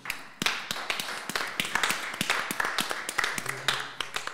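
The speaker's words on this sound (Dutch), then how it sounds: "Mag ik een applaus?" An audience at a library talk and music event applauds, a close, steady patter of many hands clapping with a few louder individual claps standing out.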